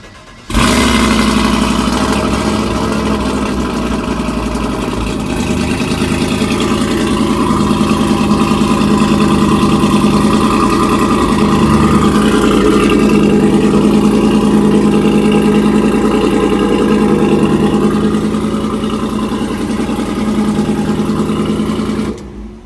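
A Gen V car engine starting and then idling, a steady, loud mid-pitched hum with a slight wavering in its note, continuing evenly for over twenty seconds before cutting off.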